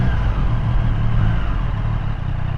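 A 2024 Triumph Street Triple 765 R motorcycle idles while parked, its engine giving a loud, steady, close rumble that holds even throughout with no revving.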